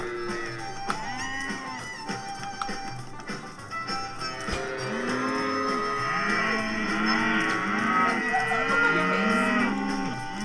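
Several cows in a video game moo repeatedly, overlapping low drawn-out calls that grow denser and louder, with a sharp click partway through.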